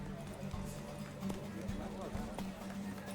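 Rapid hoofbeats of a galloping horse in the video game The Witcher 3, a steady clip-clop rhythm, mixed with a musical score and scattered effects.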